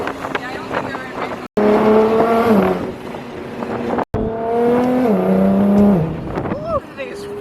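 A twin-turbo Audi R8 revs hard in two long surging bursts, the engine note climbing then dropping as it accelerates, loud and close, with a short gap between pulls and people talking around it.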